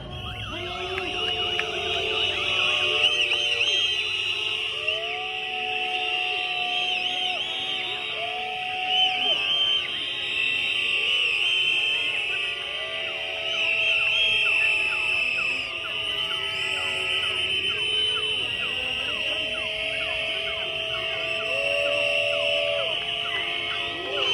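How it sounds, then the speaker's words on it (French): Shrill whistles blown by protesters at a motorcyclists' demonstration in Paris over free parking, many overlapping long blasts and trills held up loud and continuous among crowd noise. "c'est vrai que c'est pas facile de siffler pendant une plombe hein"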